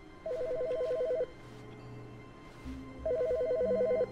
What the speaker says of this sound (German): Telefon läutet.